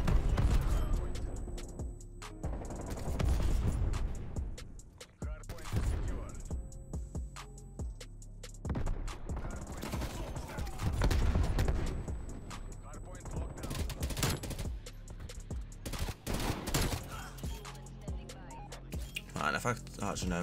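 Video game gunfire from a powerful gun in an online multiplayer match, rapid bursts and sharp shots repeating throughout amid game effects, with a player talking over the action.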